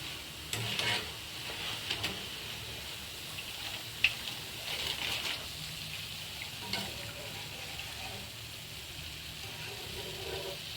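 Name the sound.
boondi batter frying in hot oil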